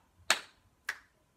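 Two sharp hand sounds from a children's body-percussion rhythm game, a crisp clap followed about half a second later by a lighter clap or snap, both close and clear against a quiet background with no voices.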